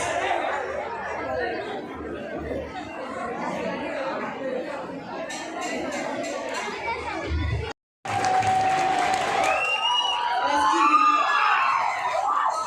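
An audience at an Onam prize ceremony applauds steadily with dense clapping and crowd chatter, stops briefly, then resumes as a voice speaks over the clapping.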